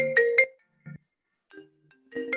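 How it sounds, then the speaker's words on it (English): A mobile phone ringtone plays a short, bright melodic pattern in separate bursts with pauses between them, moderately loud and nearby, with no voices. "So I think that's my phone there."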